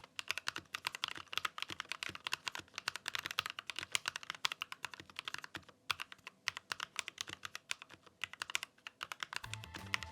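Keys clatter in a fast, steady typing rhythm on a Corsair K65 Plus gaming mechanical keyboard, close and clear throughout with no voices.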